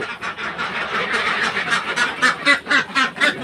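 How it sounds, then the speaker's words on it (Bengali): Ducks at a duck farm quack close by in a busy, overlapping chorus, with sharp nasal calls bunching into a quick rhythmic run toward the end. "দেখি হাঁসের খামারটি ওই যে"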